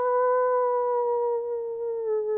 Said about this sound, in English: as you heard that first howl, you hear another howl return